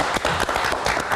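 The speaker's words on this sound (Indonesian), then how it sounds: "Berikan tepuk tangan lagi untuk Mas Abdul" A studio audience on a late-night TV talk show applauds a guest with quick, sharp claps. The brief burst stays fairly loud and busy throughout.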